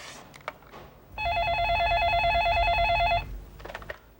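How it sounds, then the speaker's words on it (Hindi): An electronic telephone ring sounds as one loud, steady warbling burst of about two seconds, with soft speech-like noise and rustling before and after it. "तुम्हारे लिए फोन है।"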